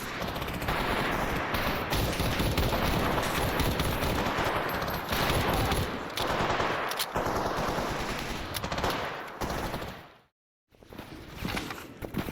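Rapid automatic rifle fire from a Norito M311, an Italian M16 replica, in the Stalker Zona mod game, sustained loud bursts with short gaps and a brief silent break near the end.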